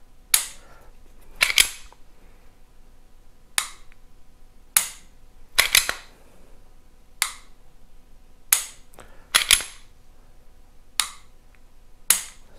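A Canik TP9 SFx pistol trigger gives sharp, crisp mechanical clicks, heard close and alone in quiet surroundings, singly or in quick pairs at irregular intervals.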